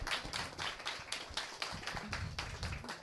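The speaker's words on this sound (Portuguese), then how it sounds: "Palmas para a Larissa" A small group claps steadily for a few seconds, crisp and close, with no talking.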